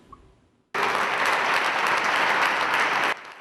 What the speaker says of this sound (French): Applaudissements des hommes et femmes du monde de la culture dans cette salle Félix Houphouët-Boigny de l'Ivocep